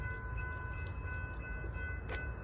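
Low rumbling of an intermodal freight train with steady tonal hum and a faint rising squeal near the end, no voices.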